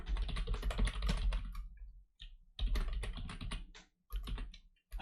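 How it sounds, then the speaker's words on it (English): Fast typing clatters on a computer keyboard in close, dense bursts of keystrokes, broken by short pauses between runs. "I can't type for shit on this fucking keyboard."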